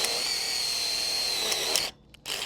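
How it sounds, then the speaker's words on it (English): A self-drilling screw is power-drilled through a band clamp into the base of a bow on a Gothic caterpillar tunnel, a steady high whine running continuously before cutting out, followed by a short final burst. "We're going to be using this self-drilling screw to drill a hole"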